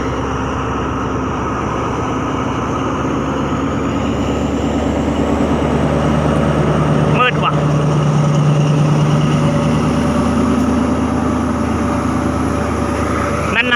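Ordinary train 211 pulls out of Chum Saeng station behind Alsthom locomotive 4218, a loud, close, steady diesel engine rumble with droning tones and a brief clank midway, a voice talking over it.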